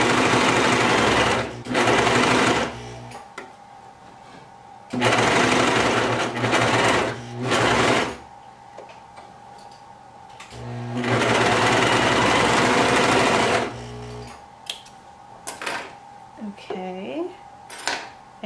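A loud mechanical whirring of a Brother 1034DX serger sewing fabric in bursts, several starts and stops, with quieter gaps and some handling noise between runs.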